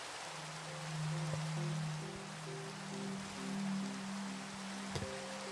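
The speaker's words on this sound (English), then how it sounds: "it would be really nice to sleep away the rain also" Minecraft rain pours as an even, dense hiss over low sustained music notes, with one faint click near the end and no speech.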